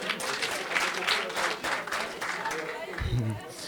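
Crowd applause at a live comedy show, a thick steady wash of clapping from many hands with voices mixed in, holding at a strong level throughout.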